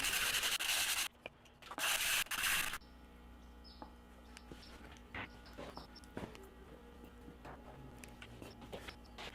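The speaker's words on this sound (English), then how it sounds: "Then sanding each of those wedges down so we could get a nice central point in the pattern." Rough, loud sanding strokes on wooden wedges for a guitar build come in a few bursts, then stop, leaving quiet workshop clatter and small taps.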